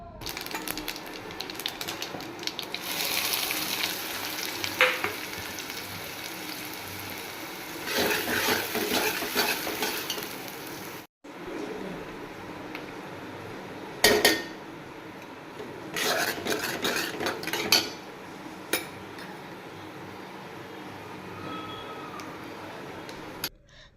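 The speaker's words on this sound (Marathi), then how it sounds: "तेल गरम झाल्यानंतर मी त्यात टाकत आहे मोहरी जिरं कांदा आणि ठेचलेला लसूण" Mustard seeds, cumin, onion and crushed garlic fry in hot oil, giving an uneven scraping and crackling texture with bursts of louder rubbing and clinking, one abrupt pause midway, and no voices.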